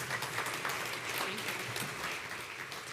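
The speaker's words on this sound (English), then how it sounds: "So another quick round of applause for everyone." Applause from the audience at the Amsterdam launch event of the Matter smart home standard fills the whole stretch as dense, steady clapping from a large crowd in a hall.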